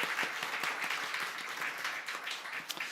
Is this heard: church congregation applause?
yes